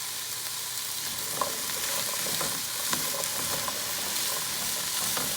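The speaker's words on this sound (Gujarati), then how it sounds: "હવે આપણે ગાજર નાખી દઈએ." Carrots go into a pan of mixed vegetables and potatoes frying for a Gujarati shaak, with a steady close sizzle and a few faint scrapes and clinks throughout, no talking.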